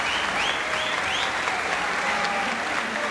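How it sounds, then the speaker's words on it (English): Applause from a squash arena crowd after a game is won, a steady dense wash of clapping that fills the whole stretch at even loudness, with a few faint calls rising over it. "The crowd absolutely love it."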